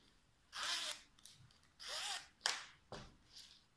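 A zipper for a flat pencil case being handled, several quick rasping zips in short separate pulls, close and fairly quiet with no talk.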